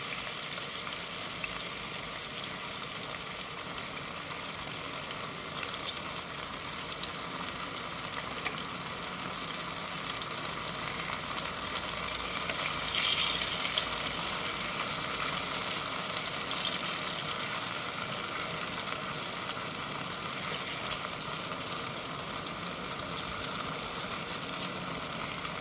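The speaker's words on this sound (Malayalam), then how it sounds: "അതിലേക്ക് ഈ വെളിച്ചെണ്ണയിലിട്ട് നന്നായി വറുത്തെടുക്കണം." Marinated mushrooms fry in coconut oil with a steady, dense sizzle and crackle that barely changes for about 25 seconds, close and moderately loud, with no talking.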